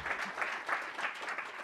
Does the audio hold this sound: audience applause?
yes